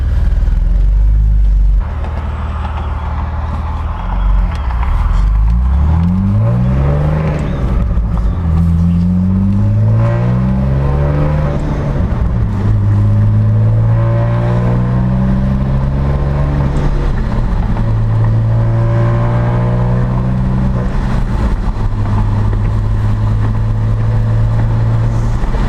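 A Saab 9-3 Turbo X heard from inside on the road gives a loud engine rumble that rises repeatedly in pitch as it accelerates through the gears, with short dips at each shift.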